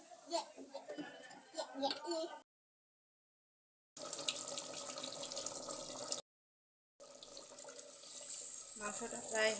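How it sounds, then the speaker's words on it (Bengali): Water is poured into a clay pot of duck meat being cooked, giving a rushing, splashing stream in two bursts a few seconds each. Brief movement noises come before them. "এখন সিদ্ধর জন্য পানি দিয়ে দেবো।"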